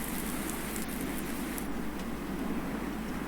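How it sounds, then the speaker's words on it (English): Steady rain in the video game Farming Simulator 19 hisses continuously at a constant level, a dense even patter with no pauses and no voices. "Let's wait till this rain stops."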